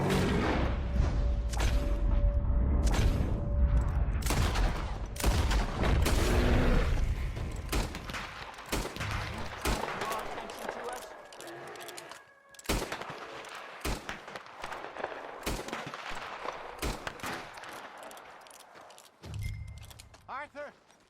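Burst of gunfire in a dramatic scene, loud and rapid in the opening seconds, then scattered sharp shots and impacts mixed with shouting and talk, with a low rumble returning near the end.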